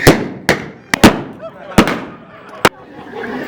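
Sharp gunshots crack in a staged street gunfight at Calico Ghost Town, with about six loud blank shots fired in an irregular rhythm and brief voices between them.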